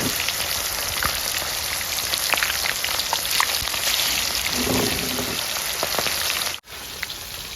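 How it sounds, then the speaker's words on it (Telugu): Chicken leg pieces fry in hot oil with a loud, dense, continuous sizzle and crackle that stays steady throughout, broken only by a brief dip near the end. "నూనె ఇక ముక్కలు తీసుకొని నూనె వేసుకుంటే ఇక లెగ్ పీస్ ముక్కలు"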